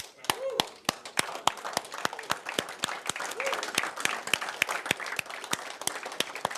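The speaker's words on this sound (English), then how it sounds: "And give yourself a big round of applause" A seminar audience claps in loose unison at a motivational training exercise, sharp distinct claps in an irregular rhythm, loud and close, with a couple of brief voice sounds and chatter mixed in.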